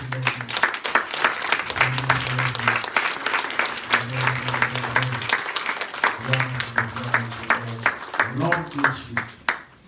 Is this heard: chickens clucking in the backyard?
no